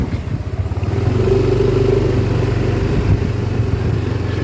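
A Yamaha Mio scooter passes on a road through a rural-looking part of Padang, its small engine a steady mid-pitched drone that swells as it draws close and then holds fairly loud.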